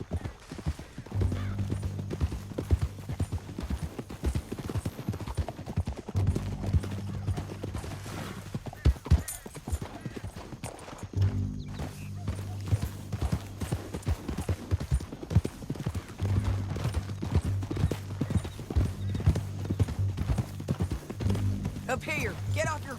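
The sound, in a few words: horses riding, hooves clip-clopping, from video game Red Dead Redemption 2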